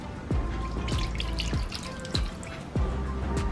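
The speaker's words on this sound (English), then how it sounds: "I'm also adding 1 cup of water" A cup of water is poured into a pot of chicken adobo, heard as repeated drips and splashes of liquid landing at a steady rhythm, close and fairly quiet, with no talk.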